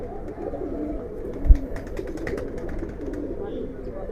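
Pigeons coo softly in a rooftop loft in Dhaka, a low, continuous murmur of calls under someone talking close by, with one brief thump partway through.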